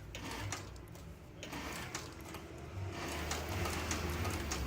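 A sewing machine stitches around the eyelet of a small pocket paddle, a steady mechanical whir with rapid needle chatter running throughout at moderate level, with no talk.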